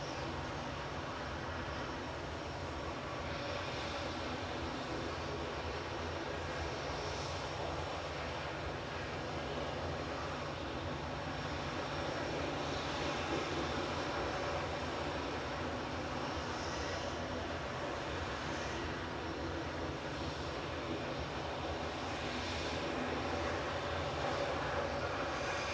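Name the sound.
Airbus A320neo jet engines spooling up for takeoff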